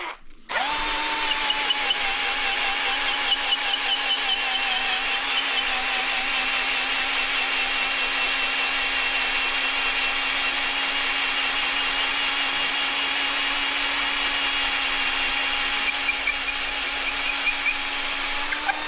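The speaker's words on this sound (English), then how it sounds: "And I could go drill in a little bit further." A power drill bores into a terracotta clay sculpture to hollow it out, starting abruptly and then whining at a steady pitch, loud and close for the whole stretch without talk.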